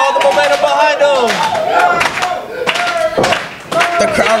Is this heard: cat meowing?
no